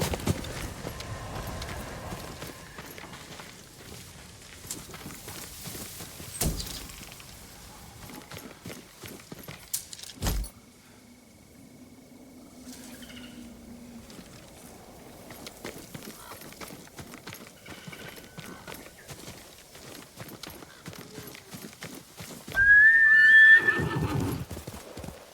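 A horse in the video game Ghost of Tsushima gallops and neighs: scattered hoof clip-clops and rustling movement play over quiet ambience, then a loud, close whinny rises near the end.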